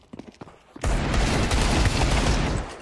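Dense burst of gunfire in Counter-Strike 2 breaks in after a few scattered shots, a loud sustained volley with booming low end that carries to the end.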